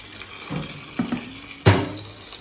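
Hot water being poured onto beans in a pot, coming in several short splashing bursts with a bigger gush near the end, close and fairly loud.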